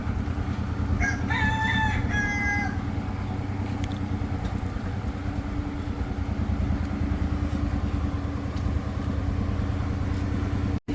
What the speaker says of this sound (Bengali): মোরগের ডাক এখনও